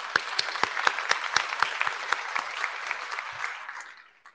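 Audience at an IETF plenary claps together, bright hand-claps that fill the room and then fade out over a few seconds, with a few sharp individual claps standing out.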